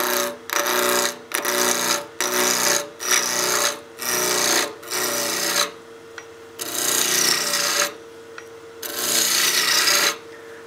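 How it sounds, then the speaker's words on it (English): A wood lathe spins a baby rattle blank while a spindle roughing gouge roughs it down, giving a loud rasping scrape in repeated regular passes separated by short pauses, close up and with no talk. "And now we can finish roughing this down with the roughing gouge."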